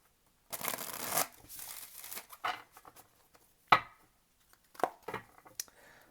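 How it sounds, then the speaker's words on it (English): Tarot cards being shuffled by hand: several short, dry bursts of riffling and tapping, the longest near the start, then scattered quick flicks and slaps with brief silent gaps, close by and moderately quiet. "One more shuffle, one more shuffle."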